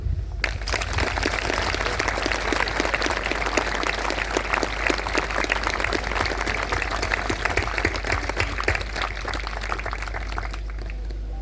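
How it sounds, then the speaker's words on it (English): Sustained outdoor applause from a large crowd at a charity walk event, a dense, even roar of clapping that starts abruptly and continues steadily for about eleven seconds before easing off, with a low rumble underneath. "we've already given a lovely round of applause"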